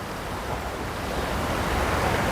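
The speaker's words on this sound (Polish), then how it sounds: "tu już jest normalnie ocean, to już nie jest basenik, jest normalnie ocean" Steady ocean surf at natural volcanic pools on Tenerife washes in a continuous broadband rush, moderately loud, with no voices.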